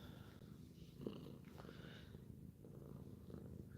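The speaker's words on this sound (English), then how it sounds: "Y'all hear her purring?" A domestic cat purrs close up, a soft continuous low rumble running steadily throughout with slight shifts as she moves, with no talking over it.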